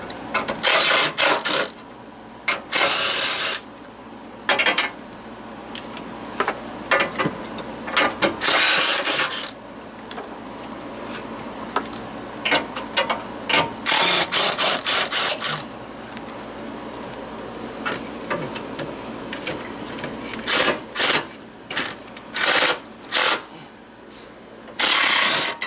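A ratchet wrench backs out 10mm bolts from the battery tray of a 2003 Dodge Neon. Loud, close, rapid clicking comes in repeated bursts with short pauses, over a steady metallic background.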